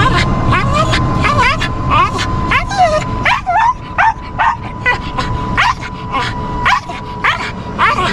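An excited dog yips, whines and makes chattering vocalizations in quick repeated bursts while riding in a golf cart. Someone talks under and between the sounds.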